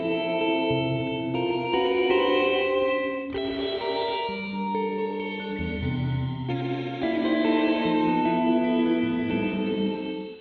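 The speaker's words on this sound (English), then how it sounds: "it's a reverb expander." A guitar plays sustained chords through a Red Panda Context V2 pedal set to reverb expander, each chord blooming into a wide, washy, shimmering tail that overlaps the next, with no talking.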